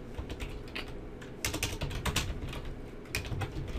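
Fingers tap steadily on a computer keyboard, a close, busy run of clicks with brief pauses and a few bursts of faster keystrokes, and no voice over them.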